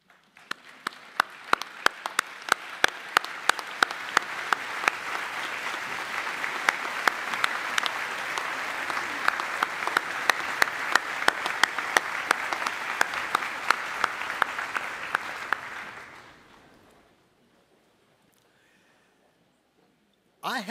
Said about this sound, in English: Let's give your proud parents and family a standing ovation.